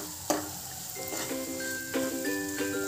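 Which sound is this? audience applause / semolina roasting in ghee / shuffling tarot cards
semolina roasting in ghee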